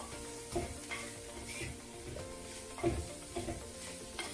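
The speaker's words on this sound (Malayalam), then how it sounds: "മല്ലിപ്പൊടി, മഞ്ഞൾപ്പൊടി എല്ലാം കൂടി ഒന്ന് നല്ലപോലെ ഇളക്കുക." Chilli, coriander and turmeric powders fry in a pan for a bittergourd masala curry while a spoon stirs them: a soft, steady sizzle with scraping and clinking strokes scattered across it.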